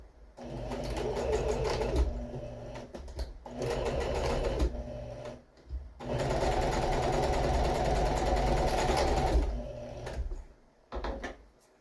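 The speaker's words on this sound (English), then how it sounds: "Okay, straight stitch." During a couch makeover, a sewing machine runs a straight stitch in two long, loud bursts separated by brief pauses, with shorter whirs and handling knocks near the end.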